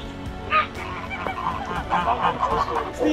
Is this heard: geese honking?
yes